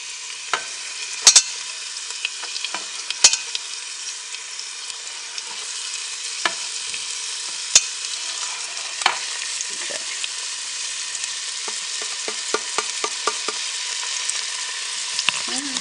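Chopped vegetables sweat in a chili pot, giving a steady broad sizzle throughout with scattered sharp pops and crackles, close and fairly loud, no voices.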